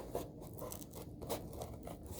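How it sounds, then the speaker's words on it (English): Scissors snip and scrape through paper while cutting out a letter shape for a stick initial craft, a quiet, close, irregular series of crisp cuts with no talking. "Then your scissors can go in, and you can start cutting up to your line there."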